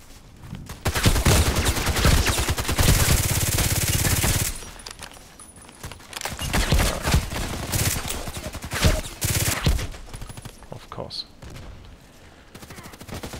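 Automatic weapons fire in Contract Wars, an online shooter, in long, dense, rattling bursts broken by short pauses, with close loud shots and more distant firing. Someone talks over parts of the gunfire.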